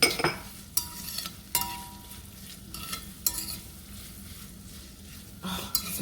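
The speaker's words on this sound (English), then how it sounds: "And then right on in with our onions." Onions added to a pan with bell pepper and sautéing for black-eyed peas, a steady close sizzle broken by a few sharp clatters of stirring and utensil knocks, with no talking.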